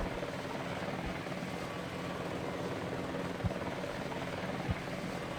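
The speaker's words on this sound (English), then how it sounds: "my helicopter getting ready for a lovely attack" Helicopter in Battlefield Vietnam, a steady rotor-and-engine drone that holds throughout, with a couple of brief low thumps rising above it.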